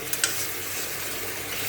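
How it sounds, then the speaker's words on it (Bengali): Ginger, cumin and chili spices fry in a pan with a steady, close hiss of sizzling oil, broken near the start by a couple of sharp stirring clicks. "এখন মশলাটা ভালো করে আমি ভেজে নেব"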